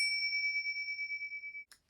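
A single cleansing bell on a string rings out with a clear, sustained metallic tone that hangs and slowly pulses before cutting off, followed by a faint brief jingle.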